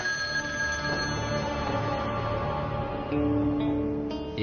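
A telephone rings steadily in an indoor scene, its electronic ringtone repeating at a constant moderate level over low background hum, with no talk.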